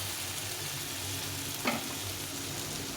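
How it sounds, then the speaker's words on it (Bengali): Spices with turmeric fry on low heat in a pan, a faint even sizzle running throughout with a single soft stir scrape midway. "দিয়ে এটাকে একটু কষিয়ে নিতে হবে একদম লো হিটে এটাকে ভালো করে ভেজে নিতে হবে"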